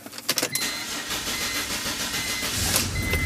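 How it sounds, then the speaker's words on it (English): A BMW E46 with the M54 engine cranks over and starts, its fuel pump fuse pulled, with a few quick starter clicks before the engine catches and settles into a steady idle rumble. "I'm going to start my car."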